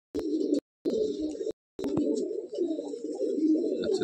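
A Madrasi or Giribaz pigeon in a loft gives repeated close, low cooing phrases, with short breaks between the first few calls and then a longer continuous stretch.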